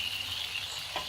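Chopped tomatoes dropping into a hot pan of sizzling chicken karahi, a steady close frying hiss running throughout with a brief soft thump near the end.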